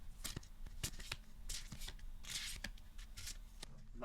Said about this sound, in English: we can give them ASMR card shuffling